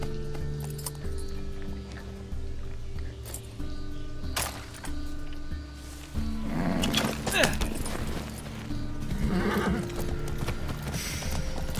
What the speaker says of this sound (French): Sois un bon cheval.